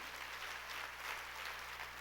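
Congregation applause during a Korean church sermon, a continuous wash of clapping at moderate level with a steady low hum beneath, no speech.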